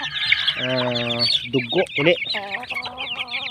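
Mother hens cluck and squawk close by outside their coop in short, agitated bursts, with a brief spoken word or two mixed in.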